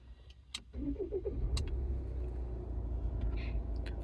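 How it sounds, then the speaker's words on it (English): A 2015 Volvo XC90 2.0 D5 diesel engine cranks briefly, catches and settles into a steady low idle rumble, heard close from inside the car after a few faint clicks. "Let's turn the engine on"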